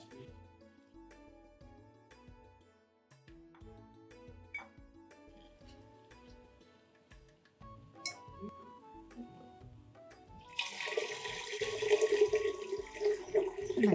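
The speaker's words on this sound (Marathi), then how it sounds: "मग आपण त्यात 3 पट पाणी घालून ती आधी कुकरला लावूया" Water is poured into a pot of overnight-soaked millet and moong dal for a pressure-cooker khichdi, a rising splashing pour that swells loud near the end after quieter kitchen clinks.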